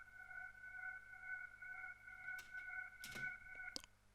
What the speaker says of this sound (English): And then there's this vocal pad that I went ahead,